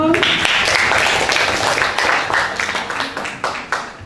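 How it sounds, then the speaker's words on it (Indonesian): Audience applause at an Indonesian school talk, a dense steady wash of many hands clapping close by that thins and tapers toward the end. "Tepuk tangan dong."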